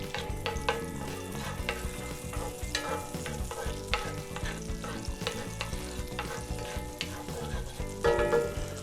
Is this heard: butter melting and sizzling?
yes